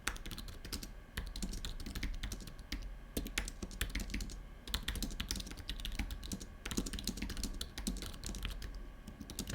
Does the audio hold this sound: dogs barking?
no